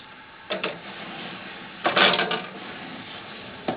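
Pressure screws being turned on a Legacy mini halfwood printing press to raise the top roller, giving a few short mechanical clicking and grinding bursts, close and alone against a low background hiss.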